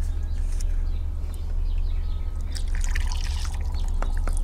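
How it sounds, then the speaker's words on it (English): Gasoline is poured from a can into the carburetor float bowl of a 454 engine in a 1971 Sidewinder jet boat, a steady light trickle and splash under a constant low engine-bay hum. "fill the float bowl with some gas"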